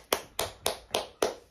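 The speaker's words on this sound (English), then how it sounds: "Big round of applause for Saul." Five slow, evenly spaced hand claps ring out close by for Saul, the cook, after a live taco-making session, each one sharp and distinct.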